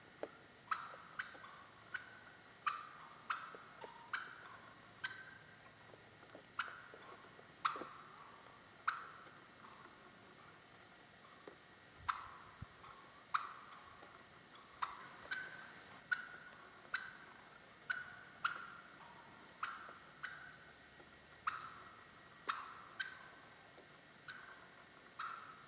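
Male wild turkeys in spring gobble and call, mimicking a hen's higher-pitched call, in a steady series of sharp, repeated bursts at moderate distance, with no other voices present.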